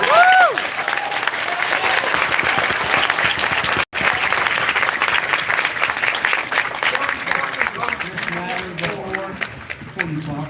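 Applause at a county public meeting, a crowd clapping loudly and continuously, with a brief dropout partway through and voices audible toward the end.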